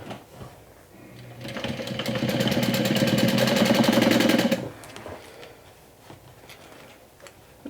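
A sewing machine stitches a seam on a swim tote, running up to a fast steady whirring chatter for a few seconds before stopping, followed by quiet handling sounds.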